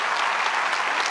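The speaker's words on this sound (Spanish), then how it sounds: "Muchas gracias. Aplausos para ellos." Dense, steady applause from a theatre audience at a comedy show, loud and continuous throughout with no talking on top.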